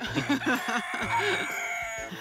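Roosters and hens in a farmyard poultry run give a string of short, close clucks and gurgling calls, fairly loud and continuous with no pauses.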